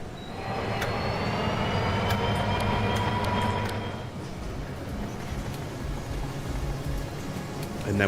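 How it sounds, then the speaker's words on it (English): A model mail train runs along the upper loop of a layout in the railway game Rolling Line, giving a steady rolling rumble with wheel noise. It sounds louder for the first four seconds, then settles to a slightly softer continuous drone. "our mail train is doing what it's supposed to do on that upper loop"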